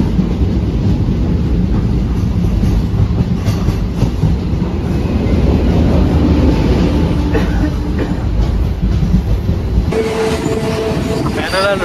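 Loud, steady rumble and rattle of a Delhi local train running on the tracks, heard from on board, with clickety-clack rhythm and some faint voices in the carriage.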